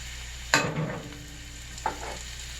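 Mushrooms cooking in a pan with oil and butter, a soft steady sizzle with a sharp utensil clack near the start and a lighter knock later.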